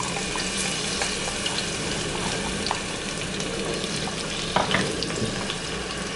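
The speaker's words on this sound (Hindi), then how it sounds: "तो यहाँ पर ऑयल इज हॉट। अभी हम इसमें फर्स्ट डालते हैं ऑनियन" Onions fry in hot oil in a pressure cooker, giving a steady dense sizzle with crackling and popping throughout, one louder burst of spattering near the end, no voices.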